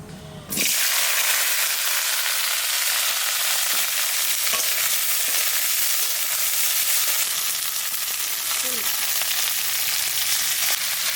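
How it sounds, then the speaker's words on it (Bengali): Cauliflower frying in hot mustard oil gives a loud, dense, continuous sizzle that bursts in suddenly and holds steady throughout, close up, with faint clinks and no talking. "সর্ষের তেল, একটু ফুলকপিটা ভেজে দেবো।"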